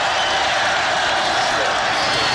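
Steady roar of a home crowd at an Arkansas Razorbacks college football game against Auburn, a loud, continuous wash of cheering voices filling the stadium without a break.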